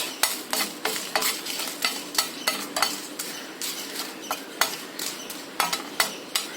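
Chilies are dry-roasted in a pan and stirred, giving a rhythmic series of sharp scraping and clinking strokes about twice a second over a faint crackle, with no voices.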